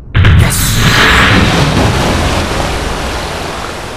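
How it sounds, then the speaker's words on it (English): A rocket capsule splashes down into water in Kerbal Space Program, a sudden loud close impact followed by a sustained roaring wash of churning water that slowly eases over a few seconds. "The Kerbal survived the water landing, yes."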